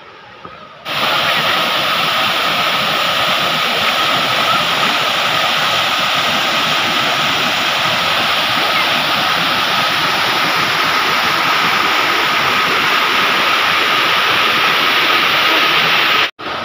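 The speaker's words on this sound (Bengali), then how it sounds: "সানো ঘাগরা ঝর্ণাটা ওইখান থেকে এসে সোজা নেমেছে" The Sana Ghagra waterfall in Keonjhar sends out a loud, constant broadband roar of falling water that holds unbroken for about fifteen seconds before cutting off abruptly, with no one talking.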